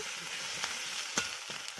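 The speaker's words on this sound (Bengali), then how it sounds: "মশলাগুলোকে ভাজা ভাজা করে নিচ্ছি।" Steady, hissing sizzle of spices frying in a hot pan, with a few soft clicks from stirring.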